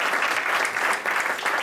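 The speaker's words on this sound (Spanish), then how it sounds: "Les damos un fuerte aplauso aquí a los" Loud, close audience applause for seminar participants, dense continuous clapping filling the whole stretch without a break.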